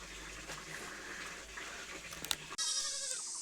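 Goats and young kids bleating near a fire at a rural home, a few nasal calls over a steady background hiss before a sudden change to a brighter, more open noise.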